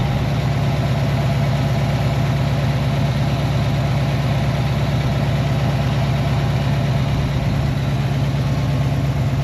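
A Ford Mustang Foxbody V8 idles steadily, a close, loud, even low rumble with a constant pulsing throb and no change in revs throughout.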